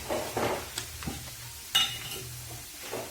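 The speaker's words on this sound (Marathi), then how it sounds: "कांद्याने थोडस तेल टाकून परतून घ्यायचं" Onions sautéing in a little oil in a kadhai sizzle softly while a spatula stirs them, with irregular scrapes and one sharp metallic clink in the middle.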